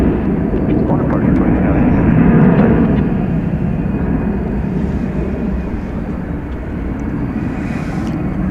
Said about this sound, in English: There is the British-bound aircraft.